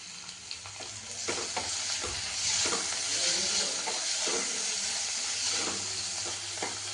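Tomatoes sizzle in a hot pan for a rice dish, a continuous frying hiss that swells as they are stirred, with soft scraping taps from the utensil.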